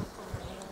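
Honey bees buzz steadily around an open hive during beekeeping work, a faint continuous drone with no talking over it.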